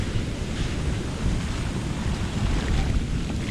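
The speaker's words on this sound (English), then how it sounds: "let's take a second to notice the sweeping motion of the ocean here." Ocean waves wash steadily onto a beach, a broad continuous rush of surf mixed with wind buffeting the microphone, loud and close throughout.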